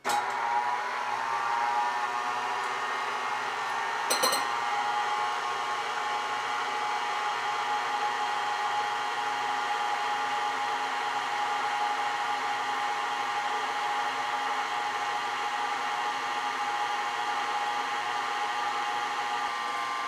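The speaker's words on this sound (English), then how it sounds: "stand mixer kind of struggles. And it's not just with the dough, it struggles with a lot of things." Stand mixer running on low while kneading cheesy challah dough, giving a steady, fairly quiet motor whine throughout, with a single faint click partway in.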